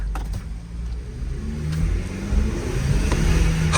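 A 2022 Ford Explorer with an EcoBoost engine, rebuilt after a wreck, pulls away on the road, its engine building in a smooth rising drone over tire and road noise.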